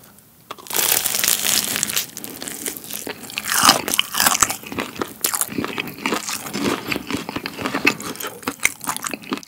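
Close, crisp bites and crunching into a corn dog studded with peanuts, irregular sharp crackles and chewing bursts following one another for several seconds with no talking.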